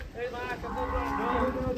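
A cow at a rodeo-style cattle-riding event gives one long, low moo, close and fairly loud, over a rough background.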